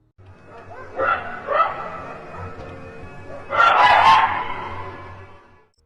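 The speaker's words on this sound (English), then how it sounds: "It's like a dog's bark, but something's just wrong." Odd dog-like barking caught on a trail camera, two short bark bursts followed by a louder, longer, harsher call, fairly close and standing alone against a low steady hum.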